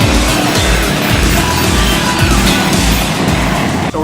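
A race car engine at a dirt-track event revs and climbs through gears, loud and close, with repeated rising pitch sweeps over a constant rumble.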